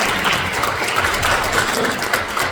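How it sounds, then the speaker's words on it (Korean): A seated audience at a book talk on the history of Korea's security laws claps steadily, dense continuous applause at close range with no voices over it. "두 분 박수 보내드리겠습니다"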